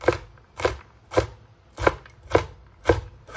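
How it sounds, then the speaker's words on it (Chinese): Knife chopping washed long beans into small dice on a cutting board, with seven steady thumps at an even rhythm of about two per second, close and clear with no talking. "放到案板上面，切去头部不要，再改刀给它切成小碎丁"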